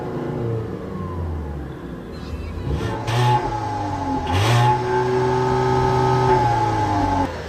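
A 2015 VW Jetta engine revving while sitting in park, climbing steadily in pitch toward about 4,000 RPM and holding there, loud and close with a steady whine, no talk over it.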